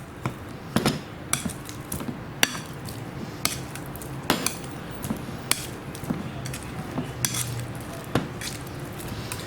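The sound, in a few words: mashing softened butter mixture for roast chicken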